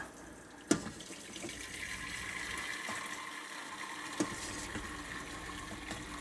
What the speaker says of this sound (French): je vais utiliser l'eau qui était dans la couscoussière et je vais le verser sur Sifa